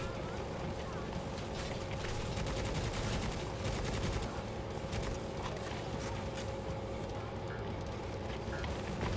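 Enemies fire at the player in Necromunda: Hired Gun: rapid, continuous rattling gunfire over a steady hum, with a person talking over it.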